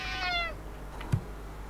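A cat in the video game Friday the 13th: Killer Puzzle gives one short meow over a low, steady game hum, followed by a brief soft chirp.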